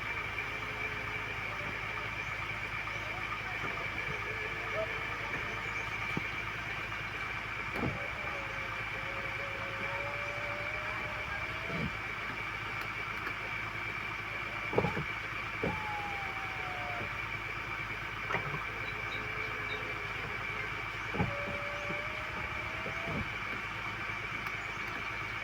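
A Ford car engine idles roughly and erratically after a cold start, with a steady low hum broken by irregular surges and dips in pitch, heard fairly faint and close with no clear talk.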